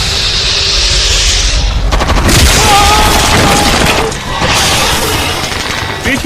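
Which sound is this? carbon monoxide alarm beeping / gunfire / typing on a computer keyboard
gunfire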